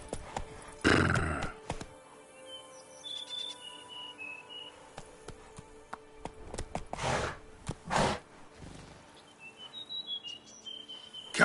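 Geralt's horse Roach in The Witcher 3 makes a few hoof thuds and a brief snort or whinny, with chirping birds and quiet ambient wind between, fairly soft overall.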